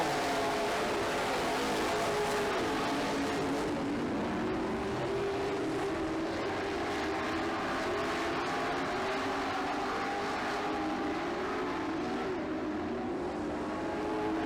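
Race cars circle a track in a steady, continuous engine roar that stays at an even volume from start to finish, with no talk over it.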